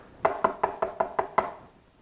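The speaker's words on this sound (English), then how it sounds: "Still knocking." Knocking on a door, seven evenly spaced raps in a steady rhythm, close and fairly loud, with nothing else heard.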